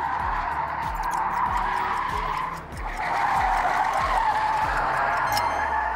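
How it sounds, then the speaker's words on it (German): Audi car tyres squeal and shred through a tyre-burning challenge: a loud, sustained screech with a rhythmic low thumping underneath and a brief dip midway. "Da fliegt schon ziemlich viel Reifen."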